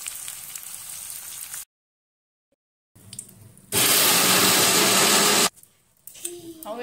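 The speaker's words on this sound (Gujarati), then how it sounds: "આવી જ રીતે બધો જ ગુંદ આપણે શેકી લઈશું।" Edible gum (gond) roasts in ghee in a pan, giving a loud, dense sizzle and crackle that comes in separate bursts, broken by abrupt silences and quieter stretches.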